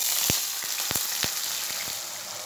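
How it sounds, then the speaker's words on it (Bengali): A paste of onion, ginger, garlic, tomato and chilli sizzling in hot oil, a steady frying hiss punctuated by a few sharp spatters and pops. "এরপর এর মধ্যে আমি একটা মশলা দিচ্ছি, যার মধ্যে রয়েছে পেঁয়াজ, আদা, রসুন, টমেটো, কাঁচা লঙ্কা আর তেজপাতা।"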